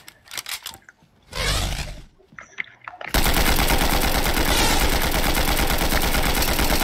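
Video game gunfire cuts in after a few seconds of scattered sounds and a brief whoosh, then continues as a loud, sustained, rapid burst of automatic shots for the rest of the clip.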